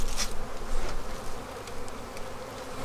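Agitated honeybees buzz loudly at an opened hive on a cold 25°F day, a dense, close swarm drone with individual bees zipping past.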